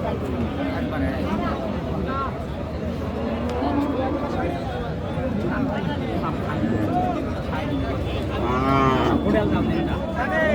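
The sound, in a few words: cattle mooing at a cattle market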